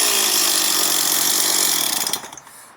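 A chainsaw held at half throttle with its chain brake engaged roars loudly and close, a harsh strained whine with the clutch slipping, then winds down abruptly to a fading rattle at the end.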